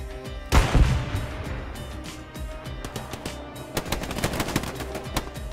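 Rapid gunfire in a competitive esports shooter match: a heavy burst of shots up front, then quick repeated cracks and pops continuing over busy game ambience.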